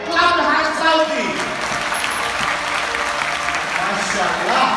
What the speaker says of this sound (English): How many of you want color red? Clap your hands loudly.